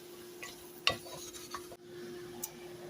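Mixed greens are stirred in a sauté pan, giving a few scraping utensil clinks and a sharp metallic knock over a soft sizzle. It is quiet and close, with no speech.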